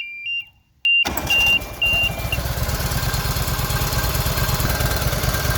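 A Walker lawnmower engine cranks with a few short beeps, then catches and settles into a loud, steady, close mid-pitched idle with an even pulsing rhythm.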